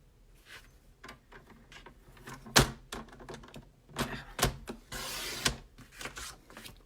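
Blackberry Bliss designer paper is cut on a paper trimmer, giving scattered clicks and sharp snaps and a short sliding cutting sweep, close and fairly loud, with no talk.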